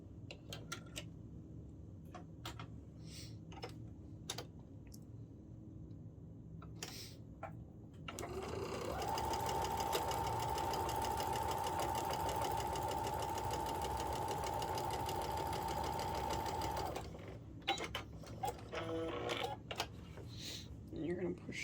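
A sewing machine stitches fabric pieces together along the edge, a steady fast mechanical whir lasting about ten seconds, with quieter handling sounds and talk before and after.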